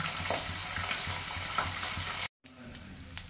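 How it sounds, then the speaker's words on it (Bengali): Pabda fish sizzle steadily in hot oil in a pan, a close crackling hiss with faint stirring ticks, cut by a brief silence before a quieter stretch of frying. "মাছটা ভেজে নিয়ে তারপর আসছি।"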